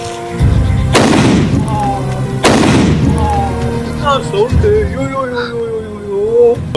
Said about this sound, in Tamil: இது வந்து டைமிங் பாம்